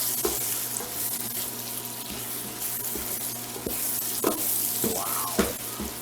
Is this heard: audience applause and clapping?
no